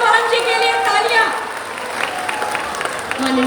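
Crowd clapping at a festival stage event honouring dignitaries, applause running under amplified talk and tonal background sound, fairly loud and steady.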